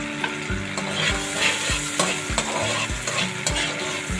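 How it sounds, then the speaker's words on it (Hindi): Chopped onion frying with cream in a pan for a chicken macaroni dish: a loud, steady sizzle broken by regular scraping stir strokes roughly every half second, with no voices. "इसको हम फ्राई कर लेंगे। और हम इसको फ्राई करना है।"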